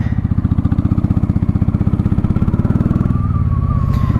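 A 1995 Honda Shadow VLX 600 VT600CD cruiser motorcycle loping along close up, its V-twin engine giving a loud, rapid, even pulsing throb that rises slightly in pitch near the end as the bike speeds up.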